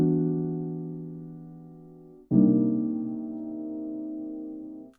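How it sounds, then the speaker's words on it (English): An ominous sustained piano chord in a Halloween song, ringing and slowly decaying alone, then struck again about halfway through with a sharp attack before fading out. "we add this kind of ominous piano sound"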